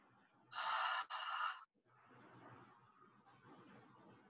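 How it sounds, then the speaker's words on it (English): A deep breath during a yoga flow, drawn in through the nose and then released through the mouth as a sigh. It is a broad, airy rush lasting about a second, close and fairly loud, followed by softer breathing. "In through the nose, out through the mouth."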